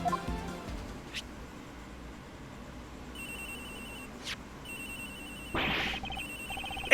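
A mobile phone ringtone sounds in the Ace Attorney Investigations video game, with a repeating electronic ring pattern that starts partway through and is broken by brief chime-like blips over quiet background ambience.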